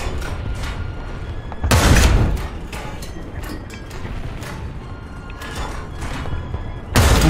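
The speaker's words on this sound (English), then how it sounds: "Artillery, fire!" Heavy booming artillery strikes land in War Thunder tank combat, two loud blasts a few seconds apart over a steady rumbling background.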